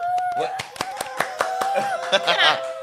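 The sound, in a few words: applause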